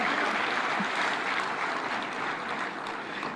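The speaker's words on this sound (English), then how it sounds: "Another round for applause to Irungu Kangata." Audience applause at a devolution conference hall, a steady wash of clapping from a large crowd, moderately distant and fairly faint, sustained for the whole few seconds.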